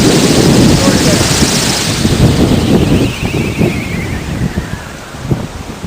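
Strong wind roars and buffets the microphone almost continuously at night around a homemade Savonius wind turbine, with loud gusting rumble that eases slightly midway before rising again.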